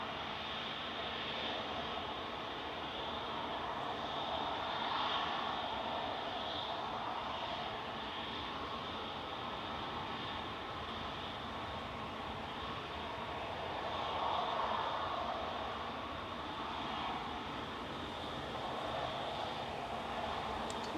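A plane departs Manchester Airport with a steady, fairly distant jet roar that swells twice and keeps rumbling throughout.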